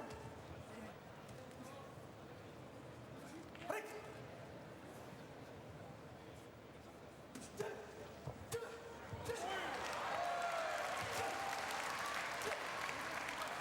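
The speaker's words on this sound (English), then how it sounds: "the German crowd thoroughly enjoying Britsch's contribution here" A German crowd at a professional boxing bout applauds and cheers under steady commentary, with scattered thumps from the ring before the crowd noise swells louder toward the end.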